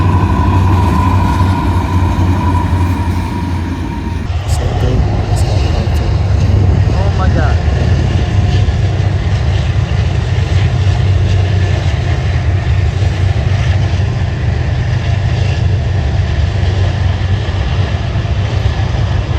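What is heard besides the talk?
train passing on a foggy morning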